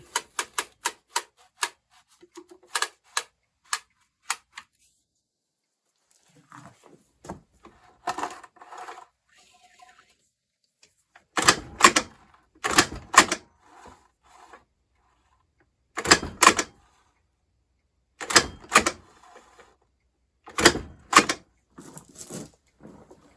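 A Diagraph stencil machine clacks through sharp rapid ticking bursts as paper advances, then delivers several heavy, loud stamping thumps in pairs, with quieter mechanical shuffling between.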